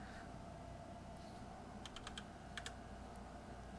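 Quiet typing on a computer keyboard during an Arch Linux installation, with a few scattered keystrokes followed by two short, crisp bursts of clicks against a low, steady hum.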